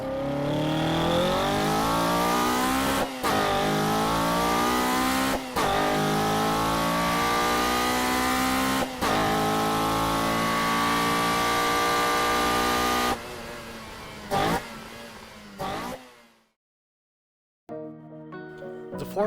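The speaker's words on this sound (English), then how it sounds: "I do like how the 4AGE sounds." A Toyota 4AGE engine in a Corolla revs hard and continuously, its loud tone climbing and falling in pitch with brief breaks between pulls, then dropping away to near silence before a short final burst.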